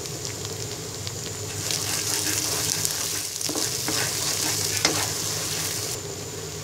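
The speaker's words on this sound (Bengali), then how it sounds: "এবার ঢাকনা দিয়ে ঢেকে মশলাটাকে 5 মিনিট কষিয়ে নিব।" Turmeric, chili and coriander powders sauté in a pan for chalta pickle, a close, steady sizzle and crackle with scattered scraping stir strokes, no talking.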